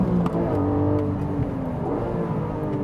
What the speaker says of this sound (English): Keeping in second gear, high off the rev limiter.